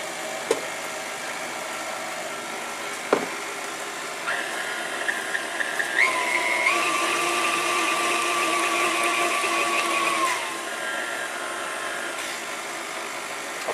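An electric hand mixer whirs steadily at low speed through spice cake batter with apple butter, a sustained motor tone rising partway through and then dropping back near the end.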